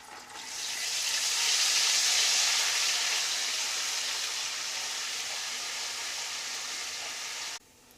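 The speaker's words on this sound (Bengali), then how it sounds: "এটাকে 30 সেকেন্ডস মতো ফ্রাই করে নেব" Whole spices and ginger paste fry in a pan for a vegetarian cauliflower korma, giving a steady bright sizzle that swells in the first second, holds evenly, then cuts off abruptly near the end.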